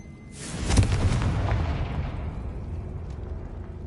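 A Confringo blasting-curse explosion in a magic video game, starting as a sudden loud burst with a sharp crack and then a long rumbling roar that slowly fades. No voices are heard.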